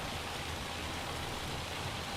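Hail drumming down in Farming Simulator 25, a steady, dense hiss of impacts with a low rumble underneath, even and unbroken throughout, with no voices.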